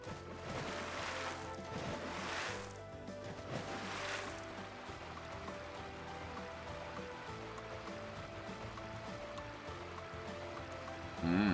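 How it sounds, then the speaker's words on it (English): Steady rushing water from a small waterfall in the fantasy RPG Chained Echoes, a continuous wash with a soft bright hiss, joined by a game music bed and brief louder bursts near the start. "Nope, that's not a big enough waterfall to go down."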